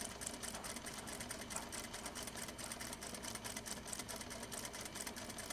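A home sewing machine stitches fabric in a steady, rapid rhythmic whir, close and continuous but fairly quiet.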